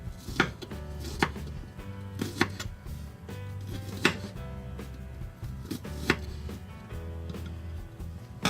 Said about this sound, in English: I'll come back, get this heated up, and chop up some vegetables